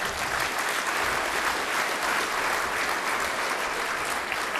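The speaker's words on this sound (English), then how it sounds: "Big round of applause for all of it." A breakfast comedy event audience applauds loudly and continuously, a thick even roar of clapping hands with no break.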